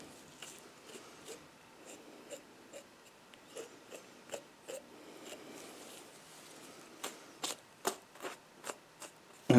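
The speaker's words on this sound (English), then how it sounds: "You're going to cut as close to the carcass" Knife blade slicing wolf hide away from the carcass near the rear end, producing a run of quiet, irregular scraping and snicking cuts that grow sharper and more frequent toward the end, with no talking.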